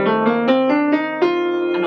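A melodic instrument plays a Mixolydian scale on F, a major scale with a flat seventh, as a run of distinct stepwise notes with rich harmonics, heard alone and fairly loud with no talking.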